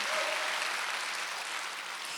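A church congregation applauds during a worship service, a steady, even wash of clapping from many hands, moderately distant and continuous throughout.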